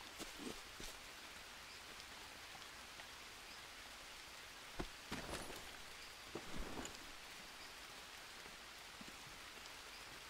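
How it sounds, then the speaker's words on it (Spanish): Steady rain falls in the jungle survival game Green Hell, a continuous wash of drops on leaves and ground with a few brief louder rumbles and splashes, no talk. "no paró de llover en como 3 días"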